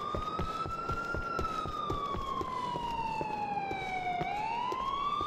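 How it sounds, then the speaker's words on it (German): Police car siren in the video game GTA 4, a loud, close wailing tone rising and falling slowly over steady engine and road rumble. "Weil hier kommt jetzt ein Polizeiauto."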